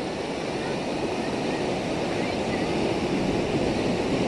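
Surf washes in beside the temple at Tanah Lot, Bali, with gusty wind buffeting the microphone, forming a dense, steady roar of waves and wind noise throughout.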